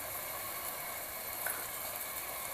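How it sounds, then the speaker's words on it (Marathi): Mutton with ground spice paste and turmeric sautéing in a pan, a quiet steady sizzle with faint scraping and stirring, no voices. "तर आपण आता हे जे मटण आहे त्याच्याबरोबर हे मसाले परतून घेऊया"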